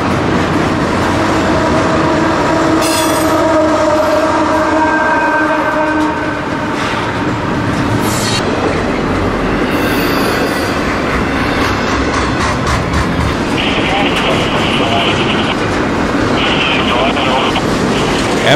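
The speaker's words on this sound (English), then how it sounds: "it's actually Canadian Pacific Train 132, operating under trackage rights across the CSX" Canadian Pacific freight train 132 with all-CP power and a mid-train DP engine, running on CSX tracks in Ohio: loud continuous rumble and wheel clatter, horn blasts early, and a long passing roar with some talk over it.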